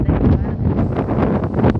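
Wind gusting across an outdoor flower garden of rain lilies, buffeting the microphone with a steady, loud rumbling roar and leafy rustle throughout, with no voices.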